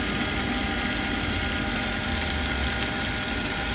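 A Milwaukee water transfer pump stick running, giving a steady, dense motor whir and churning hum that holds constant throughout, close and unbroken.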